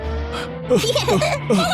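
A car rushes toward a woman, a low engine hum swelling into loud screeching tire sweeps and a skid over less than two seconds, close by, with a voice briefly heard along with it.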